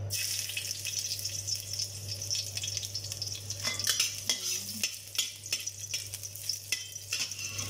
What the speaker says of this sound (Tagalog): Kainit tayo ng mantika. Ilagay natin ang ating garlic.